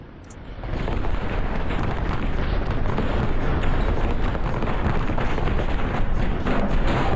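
Rocket strikes in a slowed War Thunder replay involving a P-63, a steady, loud, dense roar of rumbling blasts that sets in abruptly and holds throughout.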